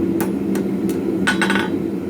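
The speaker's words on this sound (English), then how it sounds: "I'm going to start hammering the tip a little bit on a really aggressive taper." Blacksmith hammering the tip of a steel ball-end punch into an aggressive taper, three separate ringing strikes followed by a quick cluster of blows, sharp and close over a steady forge hum.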